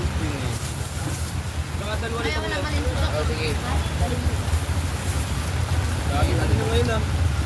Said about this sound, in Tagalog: Ayun na. Ayan. Ulan.